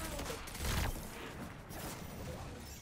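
Muffled, low-level gunfire in the Destiny Crucible map Inverted Spire, a dull continuous rumble of shots with one heavier burst, faint and somewhat distant.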